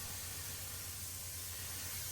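Spray gun applying black paint to a wooden dresser with the drawers in place, giving a steady, continuous hiss with a low hum underneath, close and even throughout.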